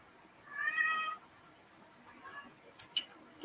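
A pet cat meows a couple of times indoors, one clear mid-pitched meow followed by a fainter one, with light clicks near the end and no talking.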